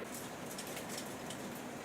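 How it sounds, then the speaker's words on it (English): Steady hail or heavy rain patters on a surface outdoors during a hailstorm, a dense, even hiss with no voices, faint and somewhat distant. "Excuse the hailstorm that's happening right now"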